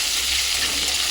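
Onions frying in butter with cloves, cardamom, cinnamon, black cardamom and peppercorns in a kadai, a loud, dense, continuous sizzle close up, briefly and alone.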